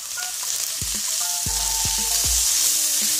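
Onions added to browning beef in a hot pan, a bright continuous sizzle with a few spatula scrapes and taps in the second half.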